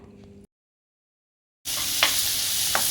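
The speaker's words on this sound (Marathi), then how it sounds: "बटर वितळे पातीचा कांदा टाकूया" Chopped spring onion drops into melted butter for a vegetable soup and sizzles loudly and steadily, with a couple of spatula stirs over the hiss after a brief silence.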